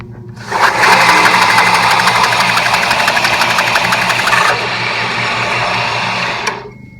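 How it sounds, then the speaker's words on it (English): An old belt sander's motor, choked with sawdust, starts up and runs with a loud, rattling mechanical drone that drops to a steadier hum partway through before cutting off, with no talking. "looks like with a little adjustment, we have some semblance of a belt sander"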